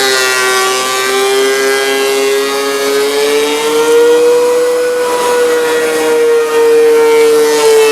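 Thickness planer planing a 9.5 inch wide pecan board, a loud steady high-pitched whine with strong harmonic tone that rises slightly in pitch midway as the board feeds through, no talking.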